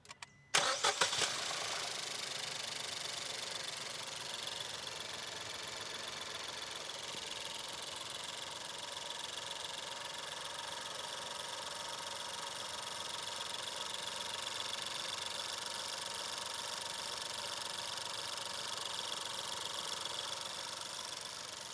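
A Suzuki Baleno's 1-liter three-cylinder Boosterjet turbo engine cranks and catches with a sharp burst, then settles into a steady, even idle that drones on for the rest of the clip.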